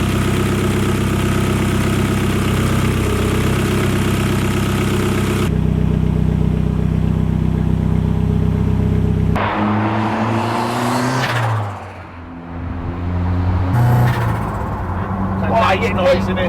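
A Ford Escort Mk1 fitted with a 350bhp Cosworth YB engine, running loud and close: a steady rumbling idle that shifts into rising and falling revs, with voices talking over it at times.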